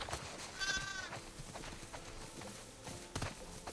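Sheep on a farm in the video game The Last of Us Part II bleat once or twice while being herded toward a barn, over a steady bed of shuffling hooves and clip-clopping footsteps, moderately close.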